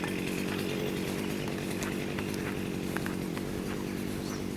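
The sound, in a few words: whipper snipper trimming grass around orchard trees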